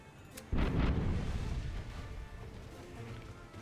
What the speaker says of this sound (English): That's a good angle with a good cannon.